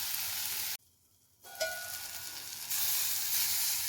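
Oil sizzles and hisses steadily nearby as spices fry for a tempering, briefly drops nearly silent, then resumes with a sharp crackle and grows louder as the frying continues.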